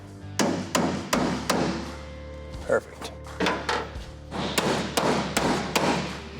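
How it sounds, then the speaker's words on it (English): A hammer taps car roof panel parts into place during a Camaro roof-top extension, sharp metallic strikes landing in quick irregular groups with short pauses, close and loud, with a brief spoken word in between. "I'll just need to kind of tap these with a hammer to get them to fall in."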